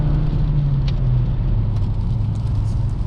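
A 2022 Toyota Camry SE accelerating hard in third gear after a downshift from about 80 km/h, its engine giving a steady, loud mid-range drone and rumble heard from inside the cabin with no talk.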